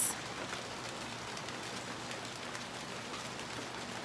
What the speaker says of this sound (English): There's really big raindrops.